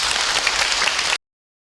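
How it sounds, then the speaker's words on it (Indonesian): A religious talk audience for Ustaz Cep breaking into dense, even applause that holds loud for just over a second and then cuts off abruptly. "Tepuk tangan bu untuk Ustaz Cep."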